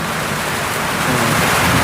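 Heavy rain pours in a loud, steady broadband roar with no letup, dense and close, with no voices over it.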